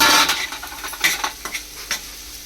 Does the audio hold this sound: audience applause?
no